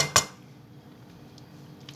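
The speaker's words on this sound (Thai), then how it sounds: "นี่ใช้กระทะเทฟลอนนะคะ อาจจะเป็นกระทะทองเหลืองทองอะไรก็ได้นะคะ" A cooking utensil strikes a Teflon frying pan once, a sharp, close metallic clink while Thai sweet bean paste is prepared, followed by near silence.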